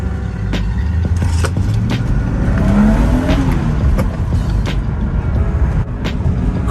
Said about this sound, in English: Induction noise does sound good